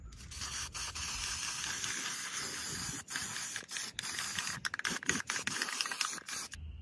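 Continuous hissing spray of appliance epoxy from an aerosol can coating a washer, close and steady with short pauses and rapid bursts toward the end, no talking.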